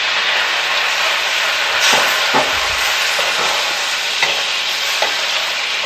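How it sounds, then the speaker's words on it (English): White wine hits a hot pan for shrimp fra diavolo, giving a steady, loud broadband sizzle with a few sharper hisses and clinks of stirring, with no voices. "Now we're going to add about 1/4 cup"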